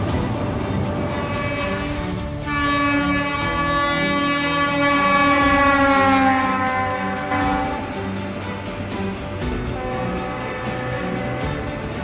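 A Vande Bharat train runs on the Udhampur–Srinagar–Baramulla rail link in Jammu and Kashmir, its loud sustained horn sounding close over a steady rumble of wheels and rails.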